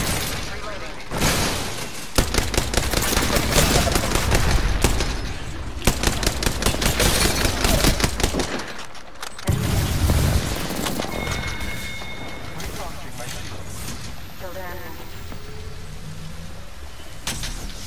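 Rapid automatic gunfire in a shooter video game, repeated bursts of shots over several seconds with short pauses between them, with people talking over the action.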